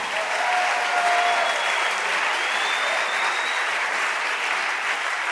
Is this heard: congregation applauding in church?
yes